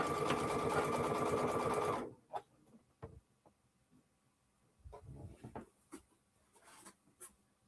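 A sewing machine runs fast stitching through fabric for a paper-pieced block, a loud steady whir for about two seconds, then stops, followed by soft handling clicks and rustles.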